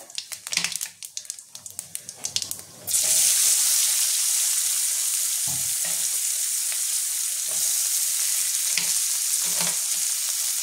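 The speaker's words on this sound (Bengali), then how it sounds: "পেঁয়াজ কুচিটা আমি হালকা লাল করে ভেজে নেবো" Chopped onion hits a pan of hot oil seasoned with cumin and five-spice, erupting into a loud, steady sizzle after a few seconds of clattery handling, with occasional stirring scrapes over the close, continuous frying hiss.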